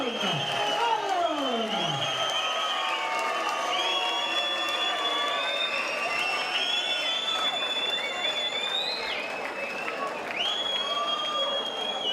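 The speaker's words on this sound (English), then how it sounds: "And a big round of applause, what a tough guy this is" Crowd at an amateur fight night cheers, whoops and applauds after a middleweight bout, a continuous roar of clapping and shouts with an announcer's voice over the top.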